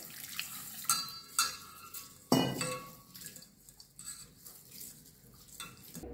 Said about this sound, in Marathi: तांदूळ आणि डाळ आपण धुवून घेऊया।